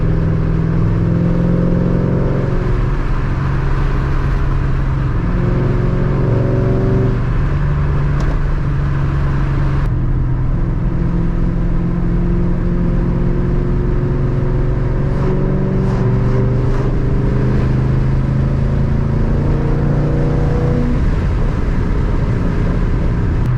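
Steady drone of a 3-valve Ford Mustang drift car cruising, its engine note rising and falling through gear changes, loud and close as if heard from inside the cabin, with no talking.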